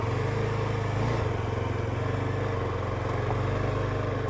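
Motorcycles and cars packed tightly in a traffic jam on a mountain road toward Sonamarg, a steady close mix of idling and rumbling engines with no speech.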